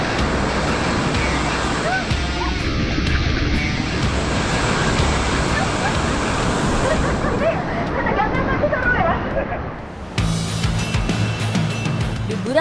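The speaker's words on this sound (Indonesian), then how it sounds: "Deburan ombak yang menghantam karang menyemburkan embun-embun yang menyegarkan." Ocean waves crashing against coral reef walls at a beach, a loud continuous roar of surf and spray that cuts off abruptly near the end.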